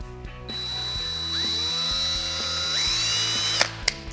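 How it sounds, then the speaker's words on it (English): A small rotary grinder whines steadily while grinding down a metal part for a router circle-cutting jig, its pitch shifting as it bears on the workpiece, close and loud with no talk, ending in a couple of sharp clicks. "I just need to grind this off just a little bit so it will thread that knob on easily"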